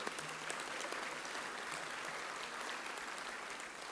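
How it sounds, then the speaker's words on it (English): A luncheon audience at a Pasadena State of the City event bursts into steady, dense applause that holds at an even level throughout without pause. "This actually deserves a round of applause."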